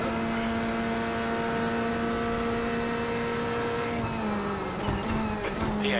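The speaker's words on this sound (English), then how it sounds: "There's a faster class car approaching." In a sim racing game, a steady engine drone holds a sustained tone, then a faster-class prototype race car closes in with a brief rising whine and sharp transient bursts near the end.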